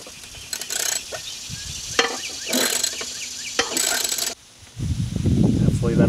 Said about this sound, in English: Let's see if I can tighten that down.